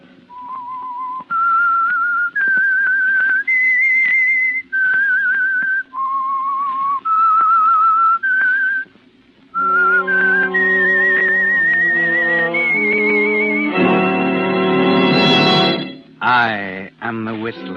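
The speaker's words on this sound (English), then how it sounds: "That whistle is your signal for the Signal Oil Program" Whistled theme signal of The Whistler radio program, a lone melodic whistle rising and falling through a series of held notes, loud and close, ending in a brighter orchestral-style swell.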